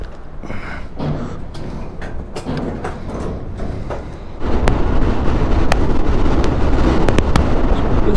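Open rail wagon carrying motorbikes at roughly 50, with steady wind roar and rattling rail noise that jumps louder midway, sharp clicks and clanks of the track throughout.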